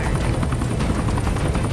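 Helicopter in the Super People video game, a loud continuous rotor thump and engine drone heard close up and alone.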